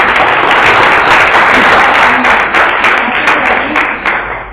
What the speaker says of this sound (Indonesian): Berikan aplaus buat kelompok 1